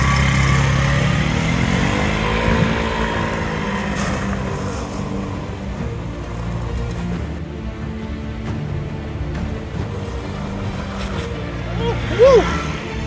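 A Chinese scooter with about 500 miles on it runs close by on a test ride, its small engine droning steadily and revving higher near the end, with a voice briefly heard.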